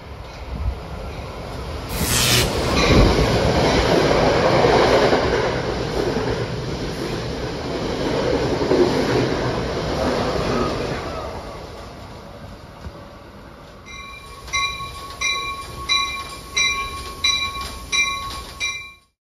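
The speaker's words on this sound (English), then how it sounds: "heading to the train station. Here comes our train." A train rumbles into a New York station loudly with a brief high horn blast, then the noise eases into a steady, rhythmic clatter of wheels over track joints.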